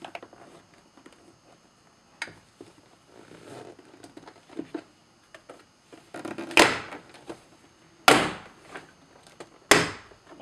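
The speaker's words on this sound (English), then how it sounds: "Now we'll remove the door panel." Plastic trim clips popping loose as a door panel is pried off a VW GTI MK5, three sharp cracking snaps close by after quieter handling and fiddling noises.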